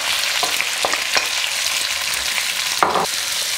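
Chopped onion frying in a pan for pheasant chakhokhbili, a steady sizzle with several short scraping stirs of a utensil, close and moderately loud, no voices.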